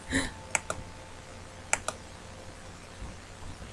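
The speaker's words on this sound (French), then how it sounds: "si vous entendez des bruits de clavier" A few sparse clicks of computer keys tapped close by, four or so keystrokes in two quick pairs against a faint background hum.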